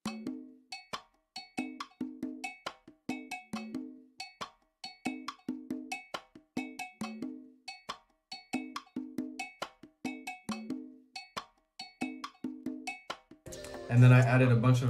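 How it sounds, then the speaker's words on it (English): A Splice percussion loop led by a bright cowbell, steady repeating clicky hits with light drums, ending in a brief louder burst. "I also added this percussion loop right here."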